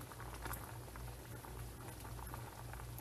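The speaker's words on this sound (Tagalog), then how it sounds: "Hayaan lang natin ito siyang kumulo." Chicken macaroni soup bubbles at a steady boil in a pot, a soft continuous patter of popping bubbles heard close and quiet.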